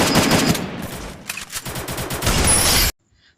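Rapid bursts of gunfire from a Free Fire shooter game, loud and dense for nearly three seconds, with a brief lull around the middle before the shots resume and then cut off abruptly.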